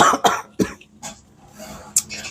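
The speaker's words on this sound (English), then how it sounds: "Sorry about the cough." Several harsh coughs in close succession, close to the microphone, separated by short pauses.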